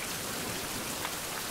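Rain falls steadily in a survival video game, a dense, even hiss of drops with no voices.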